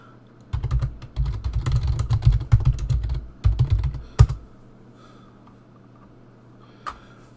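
Fast typing on a computer keyboard, close and clear: dense bursts of clicking keystrokes over about four seconds with short pauses, then a single late tap.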